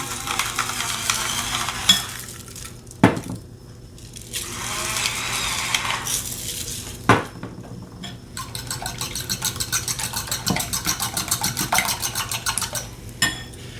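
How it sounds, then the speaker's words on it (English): Eggs are scrambled in a buttered pan: soft sizzling swells under scraping strokes, then a quick rhythmic run of whisking taps, close and loud with no talk. "We're going to scramble these eggs."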